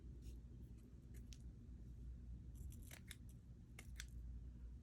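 Scissors snipping and trimming a paper flower, a few quiet crisp cuts in short bursts over a low background hum.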